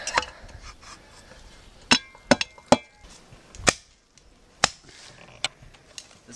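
Sharp crunchy strikes of an entrenching tool biting into root-filled ground while camping in the bush, about eight distinct impacts spaced unevenly, close and fairly loud, with no talking.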